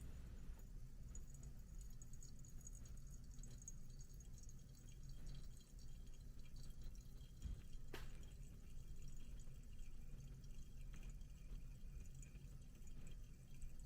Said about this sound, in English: So first we're gonna pour 50 grams of water.